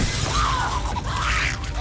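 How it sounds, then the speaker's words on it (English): Glass shatters as something crashes through a laboratory window in a zombie film, a brief bright crunching burst followed by tinkling fragments and scraping, fairly quiet and heard alone. "something crashes through the glass"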